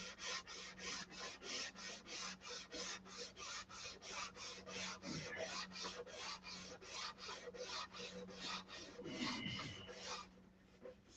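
Rhythmic back-and-forth sanding of filler on a SIG Magnum model, a steady series of about thirty close, quiet rasping strokes with an even pace that stops just before the end.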